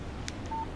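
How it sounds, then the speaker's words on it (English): In the Alan Wake video game, a phone gives a short, faint two-tone text message alert over low background rumble. "text message from Barry."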